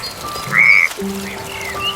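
A little green frog on a lily pad in a fairy-tale pond gives a couple of clear, close croaks, standing alone over a faint background.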